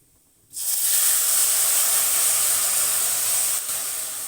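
Boiled water poured over roasted vermicelli sets off a sudden loud, close hiss that rushes steadily for several seconds and eases slightly toward the end.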